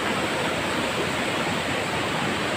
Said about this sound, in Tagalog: Tsaka patuloy pa rin ang bagsak ng ulan.